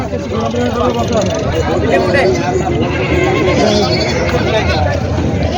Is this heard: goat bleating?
yes